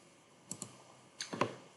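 Computer mouse clicks close up on a quiet desk, two quick clicks followed by a short pause and then a fast cluster of three, with no voices.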